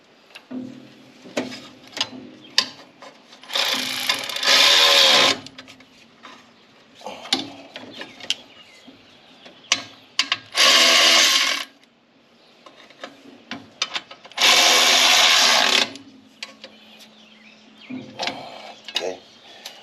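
Housing bolts being tightened with a tool on a rebuilt Wisconsin Robin engine for a 1989 EZGO Marathon golf cart. Close bursts of loud ratcheting and mechanical whirring alternate with scattered clicks and handling noise.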